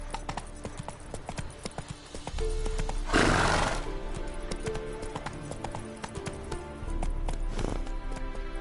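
Hooves of Roach, a horse in The Witcher 3, clip-clop steadily at a gallop, with a brief whinny partway through and game music or ambience running underneath.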